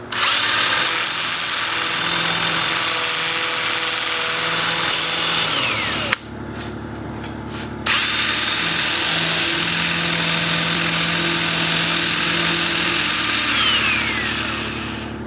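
A power sander smooths and cleans the bark along the edge of a live-edge cherry plum wood dish: a loud, steady broadband grind that drops out briefly midway, then resumes and runs to the end.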